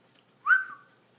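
A single short whistle rising then gliding down slightly, clear and close, in an otherwise quiet setting.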